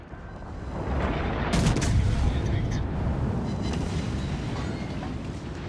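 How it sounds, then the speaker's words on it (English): Secondary guns on a battleship in the naval game World of Warships: Legends fire in a dense, continuous barrage of overlapping booms, loud and sustained with sharp reports layered over a rumbling bed. "And just look at all these secondaries firing."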